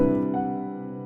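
A single sustained piano chord, a major chord with a sharp 11, rings out and slowly decays, bright and harmonically rich, with no other sounds around it.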